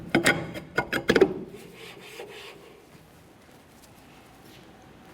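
A brake drum is slid onto the wheel hub of a 2004–2006 Scion xB, giving a cluster of close metallic scrapes and knocks at first, then a faint fading rub.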